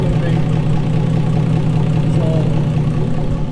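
A 1973 Dodge Duster's engine idles close by with a steady low rumble and a constant drone, running roughly with a slight misfire feel, continuous and loud with no pauses.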